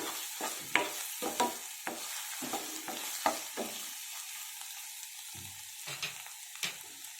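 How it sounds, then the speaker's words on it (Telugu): Chopped tomatoes sizzle and fry in a pan of South Indian egg curry, with a steady hiss under repeated scraping stirs of a spoon at close range and no voices. "ఇప్పుడు టమాటా వేసేసుకున్నాము"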